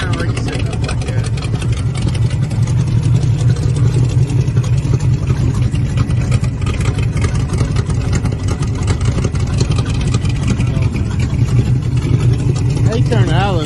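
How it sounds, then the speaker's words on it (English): A cold truck engine idles with a steady, loud, rough rumble that holds throughout, while a person talks over it. "All right, idling a little bit better."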